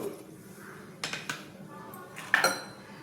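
Metal and utensil clinks knock against a pressure cooker as chopped tomato pieces are tipped in while making a spinach curry, a few sharp close taps with a voice talking.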